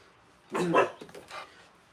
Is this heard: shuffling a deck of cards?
no